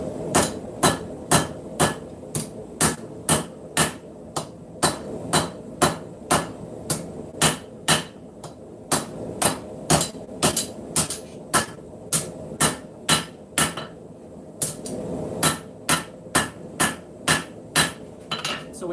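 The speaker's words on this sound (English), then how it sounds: "Stretch that material out by hammering down and out." A hammer strikes hot steel on an anvil while a knife blade is forged in a shop, loud sharp metallic blows ringing out in a fast steady rhythm, with a brief pause midway before the strikes resume.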